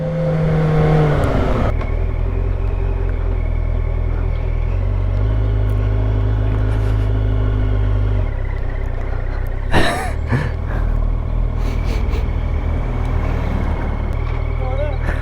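A Yamaha FZ8 inline-four motorcycle engine runs loud and steady while being ridden, its low drone shifting pitch as the rider changes revs, with a brief sharp burst near the end.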